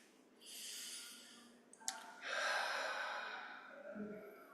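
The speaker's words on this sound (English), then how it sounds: "Breathing in through nose, breathing out through mouth, making the sound." A person takes slow, deep meditative breaths, drawing air in through the nose and sighing it audibly out through the mouth. The sound is close and quiet, with a soft click between breaths.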